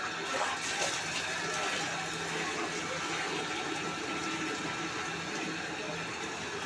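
Water runs steadily into containers at a home in Hyderabad during a water shortage, a continuous rushing flow heard throughout with faint background noise.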